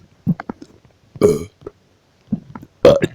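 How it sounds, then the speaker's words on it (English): Kenny lets out several loud, close burps of varying length, with two long drawn-out belches among shorter gulps and pauses. "I never want to burp ever again."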